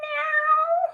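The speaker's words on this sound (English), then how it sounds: "I heard your cat in the background." A cat meows once in the background, a single drawn-out tonal cry lasting about a second, fairly clear with no talk over it.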